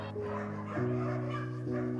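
Puppies whimper and yip in a heated puppy house at a Romanian dog shelter in winter, several thin tonal cries overlapping close by over a steady hum of background noise, with no talking.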